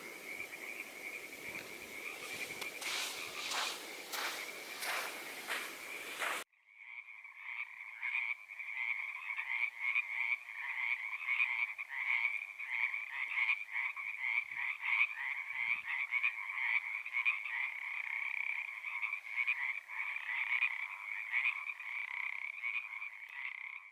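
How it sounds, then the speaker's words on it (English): A chorus of frogs croaking by a gully on the Oregon Dunes near a lake, a dense, continuous trilling that starts after a brief rustle and stays steady and moderately loud throughout. "the frogs are really, really awesome here. I'll let it record for a second so you can hear them"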